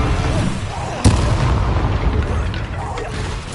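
A Confringo spell explosion in Hogwarts Legacy lands as a sudden booming burst about a second in, followed by rumbling combat noise and other spell effects under a speaking voice.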